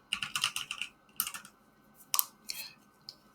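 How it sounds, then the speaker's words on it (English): Fingers type on a computer keyboard while writing HTML code, heard as bursts of quick, close clicking keystrokes separated by short pauses, with a few single sharper taps near the end and no voices. "I'm typing on line 11 now"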